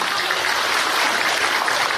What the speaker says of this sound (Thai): ขอเสียงปรบมือดังๆด้วยค่ะ